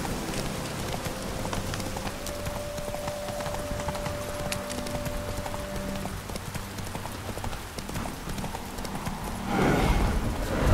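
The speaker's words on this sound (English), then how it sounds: "Spooking my horse. Roach doesn't like ghosts." Steady clip-clop of horse hooves throughout in The Witcher 3: Wild Hunt, with a brief whinny midway and a louder snort near the end, over soft ambient patter.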